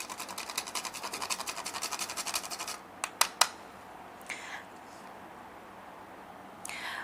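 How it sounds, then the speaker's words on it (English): Nutmeg being ground by hand, probably on a small grater, making a fast, steady run of scraping strokes for about three seconds, then a few sharp taps and faint scrapes near the mic. "Now I'll just grind some portion of nutmeg"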